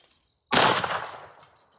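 A single sharp shotgun blast at a long-range clay target, fired with heavy shells, booming loud and close before trailing off into a short fading echo.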